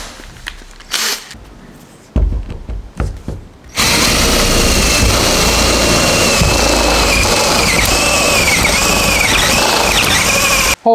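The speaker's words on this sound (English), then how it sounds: "let's drill some holes" A power drill bores holes into a Raptor-lined truck. A few short knocks and rustles come first, then a loud, continuous grinding whine with a squealing, wavering pitch that runs for about seven seconds.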